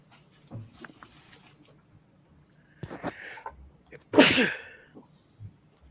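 A single loud, explosive sneeze right at the microphone, preceded by a few faint breaths and small noises in an otherwise quiet room.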